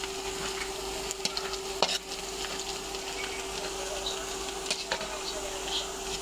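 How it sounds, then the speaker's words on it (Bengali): Garlic with green and dried chilies frying in a pan for a radish greens dish: a steady low sizzle with a sustained tone underneath and a few sharp clinks of stirring. "রসুন কাঁচামরিচ দিয়ে দিলাম। এই যে শুকনা মরিচটা দিয়ে দিলাম।"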